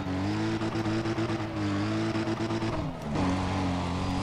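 A Toyota Supra drifting in the racing game Need for Speed: ProStreet, its engine holding a loud, continuous droning roar with a brief dip in pitch near the end before it surges again; no one talks.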